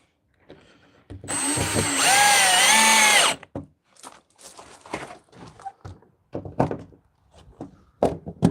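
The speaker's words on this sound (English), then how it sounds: "I can put a screw in." A power drill drives a screw into a timber slat of a folding bench, one sustained whine of about two seconds rising and falling in pitch, followed by scattered knocks and handling thuds.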